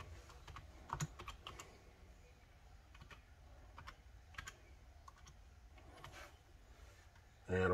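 Light tapping of fingers typing a message on a Microsoft Surface Duo connected to an external monitor: quiet, irregular clicks spread over several seconds against a soft room hum, ending with a sudden louder thump.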